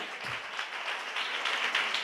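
A church congregation claps hands together, a steady patter of many palms at moderate distance, fairly soft and continuous for a couple of seconds.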